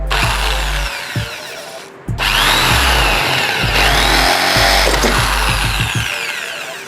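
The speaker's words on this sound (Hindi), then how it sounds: "इसके अंदर ड्रिल करके चेक करते हैं कि क्या ये मेटेलिक शीट के अंदर भी ड्रिल कर पाएगी" An electric drill bores into a metal sheet, its motor whining loudly and steadily up close, briefly stopping and then restarting and running on without talk.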